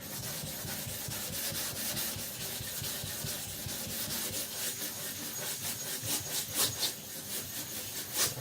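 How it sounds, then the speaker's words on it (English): A Victorinox Chinese cleaver rubbed back and forth on a Naniwa Professional whetstone with a little slurry, steady rhythmic scraping strokes close up, growing slightly louder and more uneven toward the end, with no talking. "Nothing I've ever been sharpening on felt so good as the Naniwa Professional stones"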